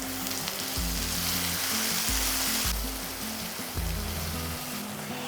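Spice masala sautéing in oil for a vegetarian gravy, sizzling and crackling steadily and loudly, close by, with no voices.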